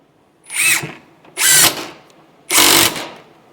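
A Metabo HPT 18V triple hammer impact driver in single bolt mode fires three short, loud bursts a second apart. Each burst ends abruptly as the tool senses resistance and stops.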